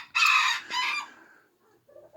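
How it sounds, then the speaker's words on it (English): Rooster crowing loudly at a backyard chicken coop, one long drawn-out call close by, then quieter clucks and a short sound at the end. "As you can see over my shoulder, there's some of my chickens"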